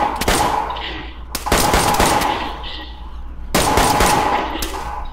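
Bursts of automatic gunfire in the video game DayZ, loud and close, with several rapid volleys separated by short pauses.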